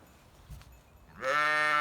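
Sakız sheep bleating on a farm: one sustained, harmonic bleat begins partway through and holds loud and close after a quiet stretch with a faint bump.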